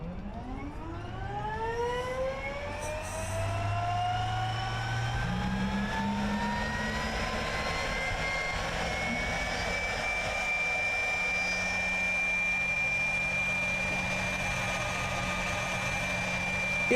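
An Embraer Phenom 300 jet engine spools up in Microsoft Flight Simulator 2024, a rising whine climbing steadily in pitch before settling into a sustained high tone over a low rumble.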